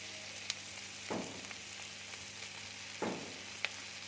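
Garlic and ginger frying in a pan, a faint steady sizzle with a couple of soft stirring swishes and small taps of a utensil, no voices.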